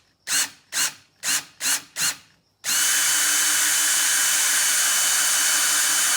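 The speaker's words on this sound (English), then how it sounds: "Want to put a pilot drill for you first?" Power drill boring a pilot hole in a motorcycle fairing on a Harley Dyna, with five short whirring bursts followed by a loud, steady continuous drilling run up close.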